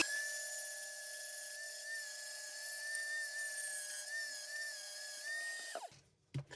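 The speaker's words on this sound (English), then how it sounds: "so we're going to go ahead and sand this down" Katerk rotary flex shaft tool sanding a foam pool noodle sword, a steady high-pitched whine running loud and continuous for about six seconds before it winds down and cuts off.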